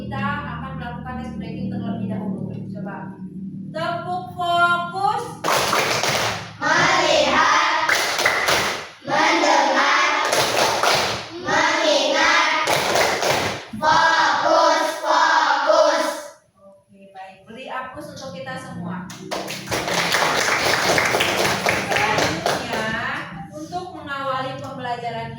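A primary school class does a rhythmic clapping ice-breaker, bursts of patterned group claps and taps alternating with a woman teacher's voice, children joining in loudly and close.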